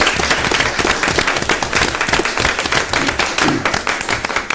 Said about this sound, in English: Applause for both of those.